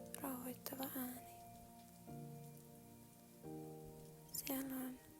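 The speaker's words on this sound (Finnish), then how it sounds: "Ikkunasta kuuluu sateen rauhoittava ääni." Rain heard through a window, a faint, steady patter running through the whole stretch beneath soft background tones and occasional gentle sounds, with no clear talking.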